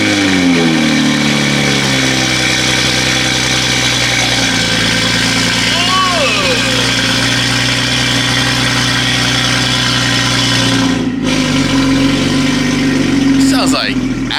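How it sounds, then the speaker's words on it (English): A car engine with stock exhaust rumbles at idle with a couple of rising revs and a deep, steady exhaust drone, loud and close. "we're gonna see how great this stock exhaust sounds again"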